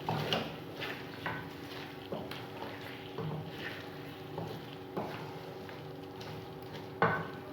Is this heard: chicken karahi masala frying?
yes